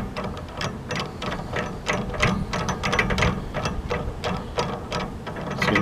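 A ratchet tightens the bracket fasteners on a HaulMaster roof-mounted car cargo rack, producing steady rapid clicking strokes close by with no voices.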